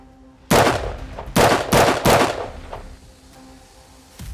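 Rifle fired through a muzzle device in a recoil test: four sharp, loud shots in quick succession, each with a short ringing tail, with no talking.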